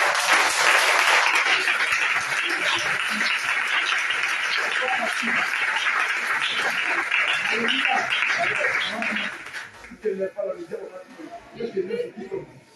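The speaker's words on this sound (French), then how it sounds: "Acclamez, acclamez, acclamez." A church congregation applauds during a French-language worship service: dense, sustained clapping for about nine seconds that then thins out, leaving scattered voices talking.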